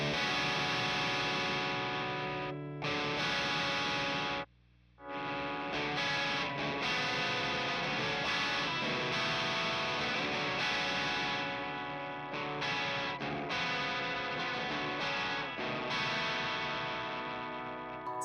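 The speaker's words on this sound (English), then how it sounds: "To be fair, it's a lot of distortion." A Squier Hello Kitty Stratocaster played through heavy distortion rings out in loud, sustained chords with brief stops, including a short clear break near the middle.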